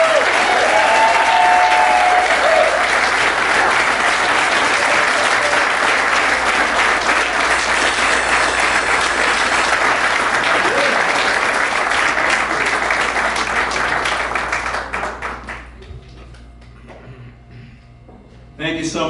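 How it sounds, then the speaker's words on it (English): Loud, sustained applause from a large Hall of Fame induction audience, dense clapping with some crowd noise, steady for about fifteen seconds before tapering off. "would you please give a nice round of applause for the newest member of the New England Music Hall of Fame"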